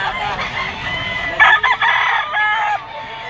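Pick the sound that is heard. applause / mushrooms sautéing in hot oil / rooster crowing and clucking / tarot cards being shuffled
rooster crowing and clucking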